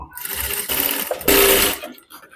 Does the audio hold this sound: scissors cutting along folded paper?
no